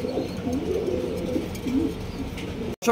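Male and female pet pigeons kept for sale coo continuously at close range, soft rolling calls overlapping, until a brief cutout near the end.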